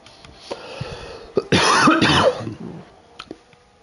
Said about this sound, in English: Appear to be getting a cough.